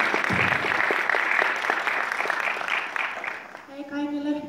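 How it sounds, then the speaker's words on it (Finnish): An audience claps loudly at an anime convention's opening ceremony, a dense burst of applause that gradually thins out before a voice starts speaking at the end. "Aplodien paikka."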